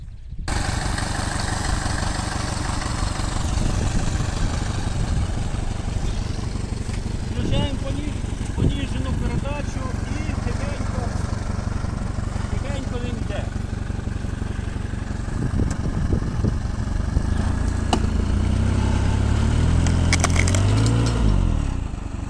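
A tractor in low gear strains to rip out a thick tree stump in a peach orchard, its engine roaring loud and steady throughout and labouring harder toward the end.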